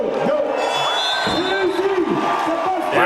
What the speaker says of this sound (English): the crowd is excited for him